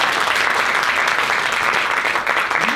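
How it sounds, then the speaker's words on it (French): An audience applauds a teenage theatre student, loud dense clapping filling the room continuously from start to end. "ça passe bien, et on peut l'applaudir pour ça."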